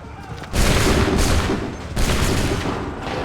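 Loud musket volleys from massed soldiers in Assassin's Creed 3 erupt as a dense, crackling fusillade, with a second ragged volley following about a second and a half later, close and overpowering.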